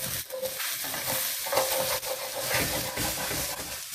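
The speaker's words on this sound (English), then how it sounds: "I'm going to take some shallots that I chopped, put it in here, let it saute a little bit" Chopped shallots and garlic sauté in olive oil in a pan, making a soft, continuous sizzle with scraping stirs from a utensil, fairly quiet and close.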